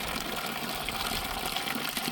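Water pours steadily from a faucet in a constant, close gushing stream, with no voices heard.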